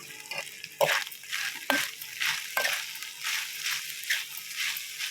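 Pasta is stirred in a pan with red chilli powder, giving a close sizzle under repeated wet scraping strokes and soft clatter of a spoon, in an uneven rhythm.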